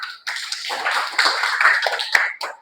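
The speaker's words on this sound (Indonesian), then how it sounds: "Tepuk tangan." Classroom applause during a chemistry lesson on molecular shapes, a dense wash of many hands clapping at once, steady and fairly loud for a couple of seconds after a brief pause.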